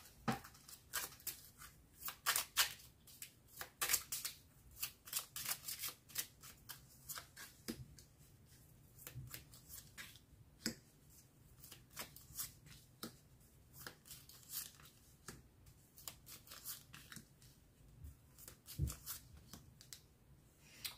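Tarot cards are shuffled for the final draws, with soft, steady riffles and taps continuing close and quiet for about twenty seconds, with no talk.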